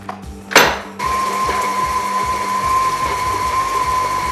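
A KitchenAid stand mixer beats butter and margarine for a tres leches cake, starting with a loud clunk and then settling into a steady, close motor whir and whine that runs without pause.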